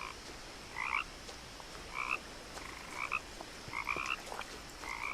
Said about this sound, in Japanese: めっちゃカエル鳴いてるな。